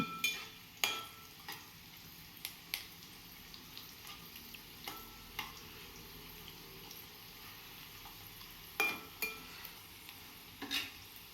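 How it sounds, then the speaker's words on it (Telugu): Food fries quietly in a pan with a low, continuous sizzle, punctuated by irregular scrapes and taps of a utensil stirring every second or two, with no voices. "ఇప్పుడు ఇంకొంచెం ఇంకొంచెం వేగాలన్నమాట అండి కొంచెం వేగాలి వైపులా వేగాలి"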